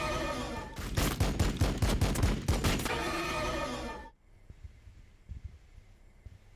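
Rapid bursts of gunfire from a Warhammer 40,000: Battlesector unit rattle loud and dense for about three seconds, then fade into scattered quieter battle sounds.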